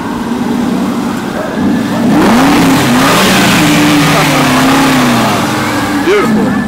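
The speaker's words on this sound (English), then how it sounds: "Can I have a couple revs," A sports car engine revs hard several times at close range, its pitch rising and falling in quick sweeps over a steady idle.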